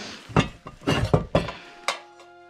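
An old metal pot decorated with a bear is handled in an abandoned house, giving a handful of sharp clinks and knocks spaced irregularly, close and fairly quiet.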